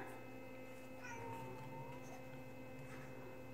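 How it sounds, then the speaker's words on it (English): A house cat meows outside a door, a few faint, drawn-out cries heard at a distance over a steady electrical hum in a quiet room. "Oh, speaking of cat, I hear my Sam outside the door."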